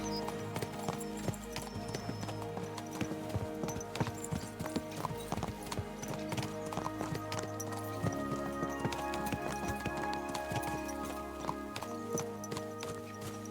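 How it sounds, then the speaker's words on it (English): Horses gallop in the video game Kingdom Come Deliverance 2, a dense run of rapid hoofbeats thudding over a continuous tonal music and ambience bed, steady and prominent throughout. "Let's really spur these horses on, eh?"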